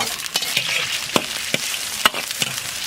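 Soaked spices such as black cardamom, fennel, star anise, Sichuan pepper, bay leaf and angelica root are stir-fried with scallion and ginger in a wok, giving a steady sizzle broken by repeated sharp scraping strokes, with no talking.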